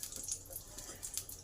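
Potato pieces sizzling in hot oil in a kadai, a steady soft hiss with light crackle throughout, fairly quiet and close.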